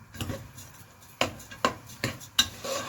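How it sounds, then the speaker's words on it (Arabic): Spoon scraping and knocking against a pot while rice is stirred in oil and ghee, several distinct sharp clinks spaced irregularly over soft rubbing, close and fairly quiet. "واقعد اقلب في الرز معاه شويه كده كاننا بنعمل رز عادي"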